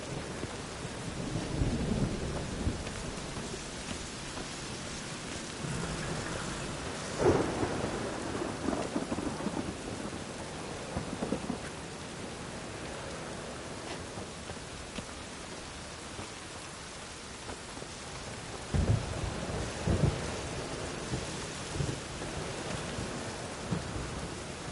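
Steady video game rain in The Witcher 3: Wild Hunt hisses throughout, with low rumbles of thunder rolling in now and then; no voices are heard.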